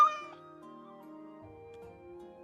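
A cat in the game Baldur's Gate III lets out a single loud, drawn-out meow that opens sharply and then tails off into a quieter, wavering cry, with no talking over it.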